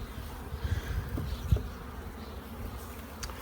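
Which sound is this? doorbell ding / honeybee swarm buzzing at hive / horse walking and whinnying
honeybee swarm buzzing at hive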